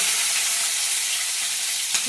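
Lentils, chana dal and peanuts frying in hot oil for a tempering, giving a steady, close, loud crackling sizzle throughout with no talk.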